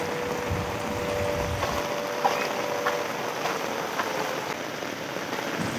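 Steady rain falls outdoors on the walk home from school, a dense even hiss with scattered nearer drops throughout and no voices.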